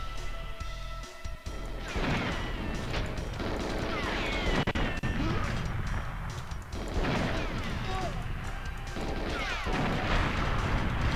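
Explosions in the Goldeneye video game burst out as loud booming crashes, several heavy blasts spread over the clip along with a dense wash of game action and effects.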